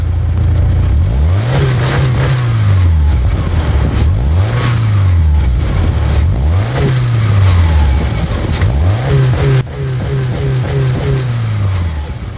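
A car engine revs up and falls back four or five times in a regular rhythm, a loud, close, throaty exhaust note between blips.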